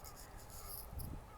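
Crows cawing in Shinjuku Gyoen park in Tokyo, a few harsh calls close by over soft outdoor background noise.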